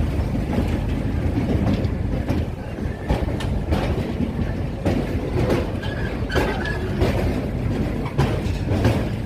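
A passenger train crosses the Donigal bridge on the Hassan–Mangaluru line through the Shiradi Ghat, a steady rumbling roll with rhythmic clickety-clack of wheels over rail joints, heard close and continuous with no talk.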